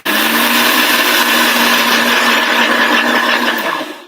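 A kitchen blender runs continuously at full power while mixing a mayonnaise-based blend, a loud, steady whirring drone with a high motor whine that holds for several seconds before cutting off, heard alone without talk.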